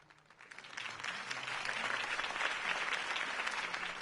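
A crowd in a Batman video game breaks into applause after a campaign speech, the clapping swelling quickly from a few hands to a dense, sustained roar that holds steady.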